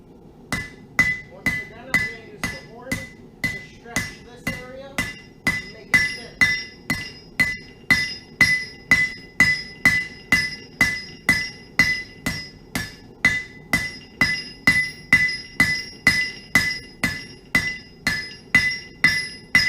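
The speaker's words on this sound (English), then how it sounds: "Here we are, back out of the fire and onto the anvil." Blacksmith's hammer striking hot metal on an anvil, a long steady series of sharp ringing blows at an even, brisk rhythm, loud and close with a bright metallic clang on each hit.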